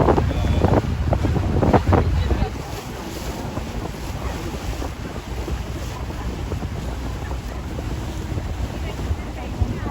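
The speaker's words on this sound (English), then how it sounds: "Pretty windy going this way." Strong wind buffets the microphone in a steady roar, mixed with rushing water and engine rumble from a moving tour boat on the St. Lawrence River.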